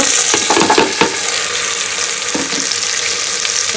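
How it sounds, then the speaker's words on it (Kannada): Field beans (avarekalu) added to onions frying in oil, a loud steady sizzle with scraping stirs near the start, close up and without speech. "ಈರುಳ್ಳಿ ಸ್ವಲ್ಪ ಇವಾಗ ಫ್ರೈ ಆದಮೇಲೆ ಸೊ ಇವಾಗ ಅವರೆಕಾಳು ಹಾಕೊಳ್ತಾ ಇದ್ದೀವಿ"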